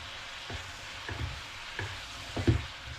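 Pork frying in its own rendered fat, a steady low sizzle broken by several soft stirring scrapes at irregular intervals, close up and without voices.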